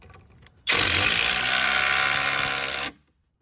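Power driver sinking a lag screw through a deck guard post into the band joist, one loud sustained whirring burst of about two seconds that starts and stops abruptly, with quiet before and after.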